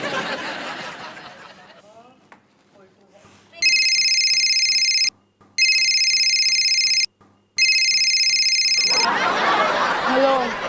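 An electronic phone ringtone trills in loud repeated bursts with short gaps, preceded by a voice and a chuckle, with more talking as the ringing ends.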